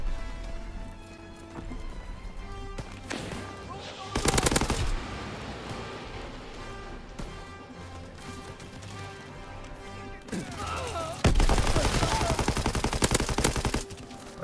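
Shooter video game gunfire comes in loud bursts of rapid shots, with quieter stretches of game sound and music in between.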